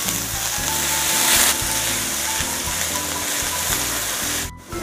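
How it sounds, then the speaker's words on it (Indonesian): Chopped shallots and garlic sauté in a pan, giving off a loud, steady, dense sizzle that fills the clip, with faint background music underneath. "Terlebih dulu saya tumis bawang merah dan bawang putih yang sudah dicincang kasar."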